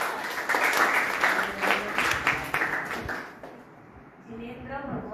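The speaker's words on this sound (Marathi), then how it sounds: "करेक्ट जोरदार टाळ्या होऊ" Audience applause at a talk in Kolhapur, a burst of clapping from a crowd that swells and then fades over a few seconds, with voices heard alongside it.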